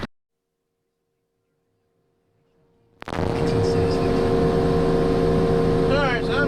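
Heavy diesel engine of a 718E logging machine drones steadily inside the cab, starting abruptly after a near-silent pause and holding loud and constant, with rattles and whining tones layered over the low rumble.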